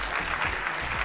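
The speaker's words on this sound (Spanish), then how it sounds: "Un aplauso para ellos dos." Audience applause at a leadership event, dense and continuous clapping from a crowd, moderately loud and steady for the whole moment.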